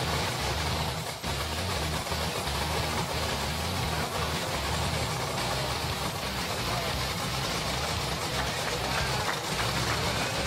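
A 1953 Chevy pickup engine idling steadily just after its first startup following a rebuild, a constant, dense rumble with little change over ten seconds.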